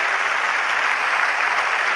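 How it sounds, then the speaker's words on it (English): A cricket crowd at an England versus Australia Test match applauding a batsman's innings: a dense, steady patter of clapping from all around the ground, even in level and heard alone. "Warm applause from all around."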